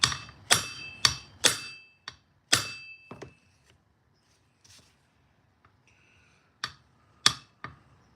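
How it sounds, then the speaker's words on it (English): A little hammer tapping while fitting an oil seal during an FS 240 inspection: sharp, close metallic knocks, first in a quick run of five, then scattered faint taps, a pause, and a final group of three. "little tiny hammer, perfect for oil seals"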